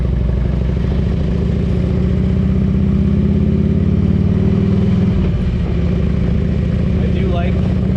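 A 2004 Harley-Davidson Road King with a carburetor and Python exhaust rumbles loud and close with a steady, deep idle throb, a brief dip in engine note partway through, and a faint chirp near the end.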